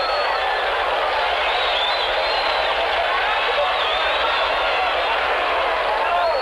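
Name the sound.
crowd cheering and yelling as the president passes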